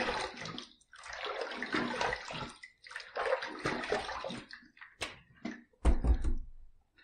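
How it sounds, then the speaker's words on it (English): Running water rinses a face and razor after a third shaving pass, broad splashing bursts in uneven spells with short gaps and a few clinks near the end, close and fairly loud, no talking. "Let's just do my two final rinses."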